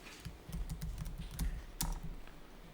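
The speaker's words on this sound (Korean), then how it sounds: "꼭 51번 키보드로 이렇게 입력하는 것이 좋고요" Quick, light clicks from a computer keyboard as data is entered into an accounting program, a close run of uneven keystrokes ending in a sharper tap.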